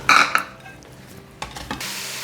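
Ground beef is stirred in a hot skillet, with a couple of sharp utensil scrapes and clanks against the pan at the start and later, over a soft, steady sizzle.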